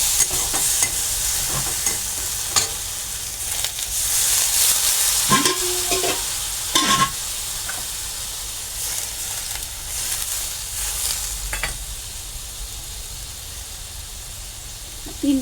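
Ground spice paste sizzles and spatters in hot oil in a pan, with red chilli powder added, a steady frying hiss throughout with stirring clatters and scrapes, loudest around the middle, with no talking.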